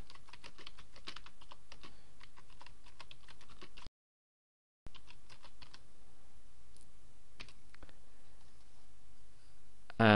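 Keys clatter on a computer keyboard while information is entered into a WordPress homepage, with quick, faint, close clicks in bursts, a one-second gap of silence, then more typing, with no talk.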